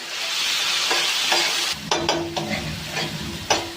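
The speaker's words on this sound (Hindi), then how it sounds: "अब हमने जो है चिकन को वाइट होने तक चिकन को यूं ही इसके ऊपर भूनना है।" Chicken tikka pieces frying on a tawa over high flame, a loud continuous sizzle with repeated sharp scrapes and clacks of a spatula turning the meat.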